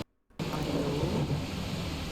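After a brief silence, steady heavy video game rain starts abruptly and hisses loudly and evenly to the end.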